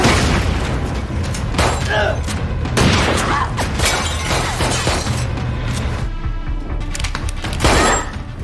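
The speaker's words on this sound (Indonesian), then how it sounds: "Lisa pun langsung mengeluarkan granat dan" Grenade blasts and crashing debris from an action film fight scene, with several loud booms and shattering impacts spread across a dense, continuous barrage of effects.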